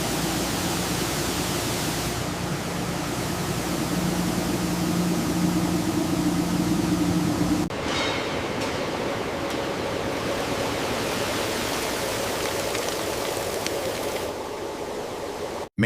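Steady rushing water pours over potato slices in a Lay's chip factory washer, a loud continuous hiss and splash mixed with machinery hum that shifts in tone partway through.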